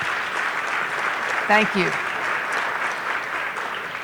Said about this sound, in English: we'll take a round of applause